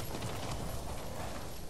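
Horse hooves clip-clop in the video game Ghost of Tsushima, a dense, steady run of hoofbeats heard close and loud for a brief moment with no talk.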